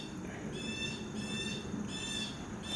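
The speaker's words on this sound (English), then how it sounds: "you hear the bird? He got something to say." A bird calls repeatedly outdoors, bright whistled phrases recurring in steady bursts at moderate distance over a constant low background hum.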